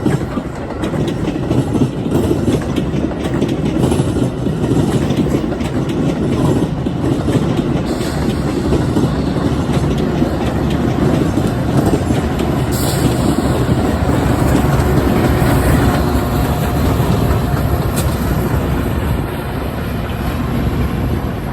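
A loud freight train hauled by two locomotives rolls past on the railroad, a sustained rumble with rhythmic wheel clatter over the rails lasting the whole stretch, close and steady.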